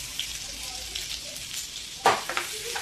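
Cumin seeds and two bay leaves hitting hot oil in a kadhai, a steady close sizzle that swells in a brief louder crackling burst near the end.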